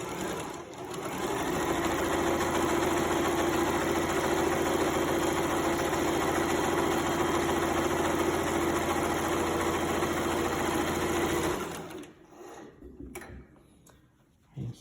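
A sewing machine runs continuously while stitching a zigzag seam along the facing of a skirt. The steady, close mechanical whir lasts about twelve seconds and then stops, leaving near silence.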